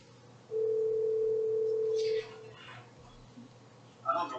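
A steady, pure telephone tone plays for about two seconds on a speakerphone call in a meeting room, followed by faint background voices and a brief clatter.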